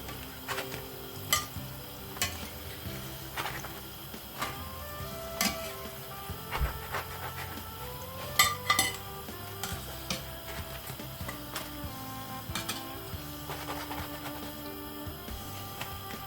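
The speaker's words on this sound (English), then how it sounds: "I finished frying the donuts." Quiet oil bubbling and crackling as donuts fry, with scattered sharp clicks and knocks of utensils against a pan throughout.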